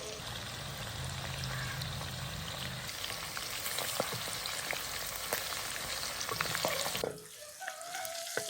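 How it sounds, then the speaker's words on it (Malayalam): Chicken pieces fry in hot oil for Kerala-style chicken pickle, a loud, steady, close crackling sizzle that drops off abruptly near the end. "ഇനി നമുക്ക് ഓരോ ചിക്കൻ പീസസ് ഇങ്ങനെ ഇട്ട് ഫ്രൈ ചെയ്തെടുക്കാം"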